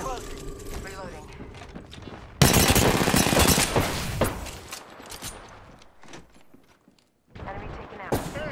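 Weapon fire in the shooter game Apex Legends: a sudden loud burst of rapid automatic gunfire with mechanical clatter, preceded and followed by quieter in-game sounds and brief voice lines.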